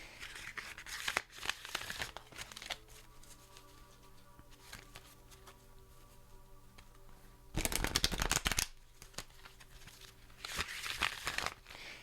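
Tarot cards being shuffled by hand, stiff cards that resist sliding together, in quiet bursts of crisp riffling and flicking, the loudest flurries coming near the end, close and soft with faint background hum.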